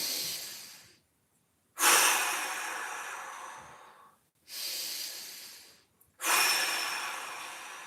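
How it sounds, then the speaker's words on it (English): Deep breathing during a mobility exercise: slow, long, hissing breaths in and out, close and clear, each lasting about two seconds, with short silent pauses between them and no talking. "2 more big breaths."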